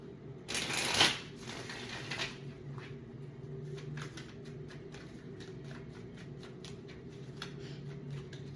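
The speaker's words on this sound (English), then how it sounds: "Let's pull one more card out of here" Tarot cards are shuffled close by, opening with a brisk riffle and followed by a quiet run of rapid light flicks and taps as the deck is handled before a card is drawn.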